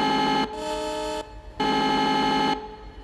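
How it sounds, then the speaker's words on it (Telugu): A locomotive horn in the RG Train Tech Demo game sounds in two long, loud, harmonically rich blasts, each roughly a second long with a short gap between, over a low engine rumble. "హార్న్ అయితే బాగుంది"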